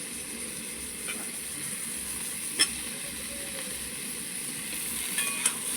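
Potato pieces frying in hot oil in a pan while dal with vegetables cooks, giving a steady, quiet sizzle throughout with a few faint clinks and no talking.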